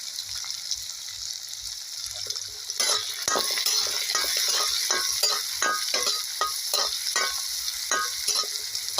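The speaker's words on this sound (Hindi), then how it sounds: "इस प्याज को इस तेल में हम तब तक फ्राई करेंगे जब तक कि इसकी कलर न चेंज हो जाए" Chopped onions fry in hot oil for a spiced eggplant dish, a steady close sizzle that swells after a few seconds as a spoon stirs, with repeated soft scrapes and clicks against the pan.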